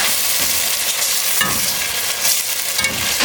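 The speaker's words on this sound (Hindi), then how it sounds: "आपने इसको तब तक भूनना है जब तक प्याज का कलर गोल्डन नहीं हो जाता" Chicken and onions fry in a pan with steady sizzling and occasional stirring scrapes, loud and close with no talking.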